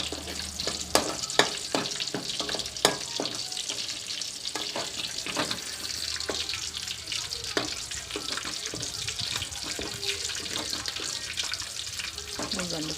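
Mustard seeds and cumin frying in oil, a loud close sizzle peppered with rapid popping and crackling as the seeds spatter, with occasional stirring sounds.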